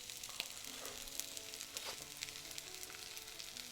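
Onions for kimchi fried rice stir-fry in a hot pan with a constant bright sizzle and occasional light scrapes of the spatula, close and fairly quiet.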